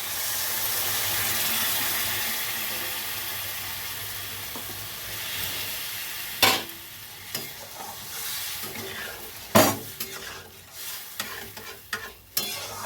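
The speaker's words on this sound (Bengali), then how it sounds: "এবার আমি যে সেদ্ধ করে রেখেছি ছোলার ডালটা ডালটাকে ঢেলে দেবো" Boiled chana dal poured into a pan of spices with kasuri methi and stirred for a Thakurbari-style dal, steady frying hiss first, then sharp scraping stir strokes and clatters in the second half, no talking.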